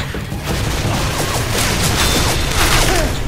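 Rapid gunfire in the zombie shooter Left 4 Dead 2, a dense, continuous barrage of overlapping shots with clattering mechanical sounds and explosive booms, loud and close throughout.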